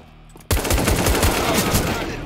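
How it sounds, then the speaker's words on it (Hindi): Sustained automatic gunfire in Counter-Strike, a loud, continuous rattle of rapid shots kicking in suddenly and holding steady to the end. "भाई ये तो शॉट पे शॉट मारे जा रहे बे"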